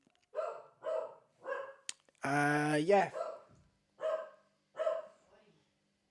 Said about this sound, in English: that's me dog interrupting me